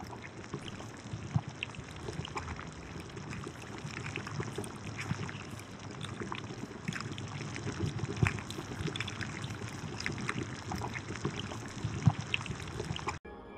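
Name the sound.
bubbling swamp sound effect from boiling water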